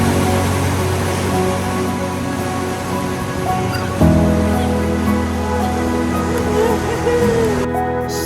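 Ocean waves surge and break at a rocky grotto on a Mariana Islands shore, a steady loud wash of surf throughout with a heavier swell crashing in near the middle.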